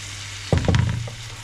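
Crushed garlic cloves hit hot butter in a pan with a sudden sizzle that crackles briefly and then settles into a steady, close frying hiss.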